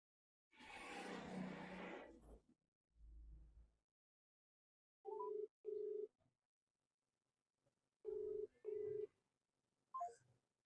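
A telephone call rings out as two pairs of short electronic ringback tones, each pair separated by a pause, after a brief burst of rustling noise at the start.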